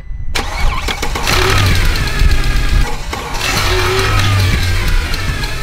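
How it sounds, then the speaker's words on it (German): A Mercedes-AMG 63 with the M156 V8 cranks and fires up, worn camshaft adjusters rattling briefly at start before the engine settles into a loud, steady idle, close and alone. "ihr startet den Motor, ne, der Motor läuft an und es macht dabei rrrr"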